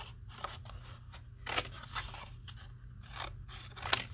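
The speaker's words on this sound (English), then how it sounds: "I'm gonna cut these out." Scissors snip through watercolor paper to cut out painted Christmas ball shapes, a series of crisp close cuts at irregular intervals over a low steady hum.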